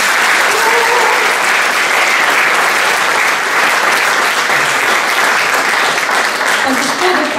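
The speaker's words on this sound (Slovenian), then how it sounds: "pa en aplavz" A loud, full round of applause from a concert audience at a choir's fifth-anniversary performance, thick continuous clapping filling the hall with faint voices mixed in.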